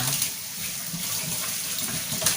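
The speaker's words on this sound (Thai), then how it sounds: "เวลาล้างเนื้อสัตว์ให้ล้างน้ำผ่าน" Tap water runs steadily over raw meat being rinsed in a kitchen sink, a continuous close splashing hiss with small irregular splashes, no talk.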